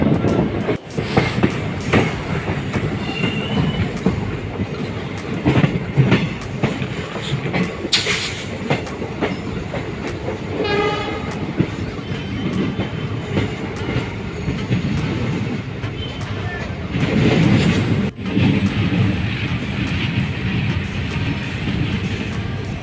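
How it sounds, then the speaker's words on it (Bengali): Passenger train running near Bamanhat railway station, a steady loud rumble and rattle of wheels and carriages heard from on board, with rhythmic clacks over rail joints and brief squeals. "বামনহাট রেল স্টেশনের কাছাকাছি কিন্তু আমাদের ট্রেন চলে এসেছে।"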